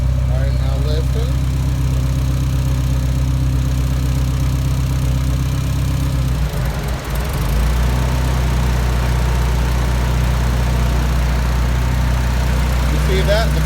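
A Mitsubishi Starion's engine idles steadily with a deep hum, then sags and nearly stalls under the load of its cooling fans, dipping briefly before recovering to a rough, continuous idle.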